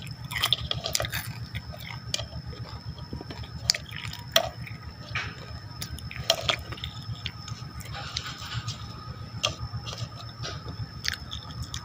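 Crispy fried food is bitten and chewed close to the mic, a steady run of sharp, crackly crunches with wet mouth sounds and no talking.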